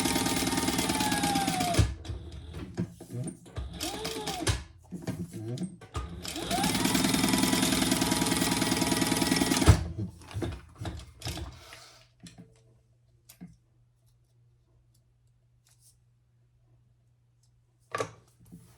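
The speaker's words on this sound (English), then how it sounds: "I'm just gonna sew down each side" Sewing machine stitching down each side of a fabric strap for a convertible crossbody belt bag, running in loud steady bursts with short pauses, then stopping into near silence with a few faint clicks.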